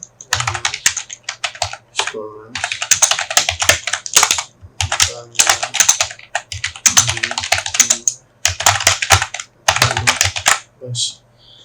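Fast typing on a computer keyboard, close and loud, in quick rattling bursts of keystrokes separated by brief pauses, with a voice speaking quietly between the bursts.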